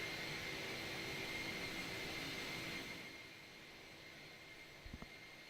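External view of an Airbus A300 jet engine in Microsoft Flight Simulator 2024, a steady broadband roar with a high whine that drops to a quieter hum partway through, then a couple of soft thumps.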